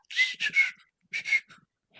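A man whistles airily through his teeth, imitating how another man whistled while thinking: two close groups of short, breathy, hissing whistles separated by a pause, with no talking.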